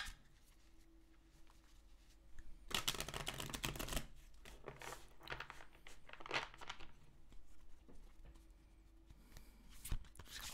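A tarot card deck is shuffled by hand, bursts of papery riffling and soft slapping clicks coming in irregular waves, close up and fairly quiet, with no speech.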